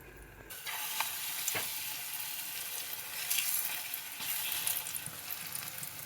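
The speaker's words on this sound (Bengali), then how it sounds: "এখানে আমি তেল গরম দিয়ে দিয়েছি, তেল দিয়েই ভেজে খাবো।" Food frying in hot oil in a pan gives a steady, close sizzle with a soft crackle that holds for a few seconds with no voices.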